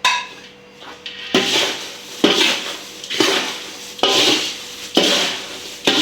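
A spoon or spatula scrapes and clatters against a pan in repeated rhythmic strokes while thin roasted poha chivda is tossed with salt and powdered sugar, each sweep loud and close with short pauses between.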